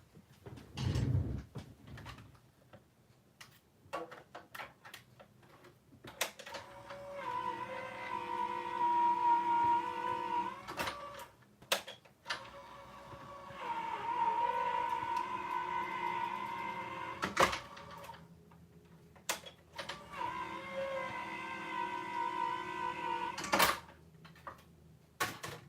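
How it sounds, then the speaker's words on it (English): Paper in a 3D embossing folder is cranked through a die-cutting machine in three separate passes, each a rolling, whirring drone with squeaky tones, separated by quieter clicks and handling noises. "I'm going to run that through my machine again"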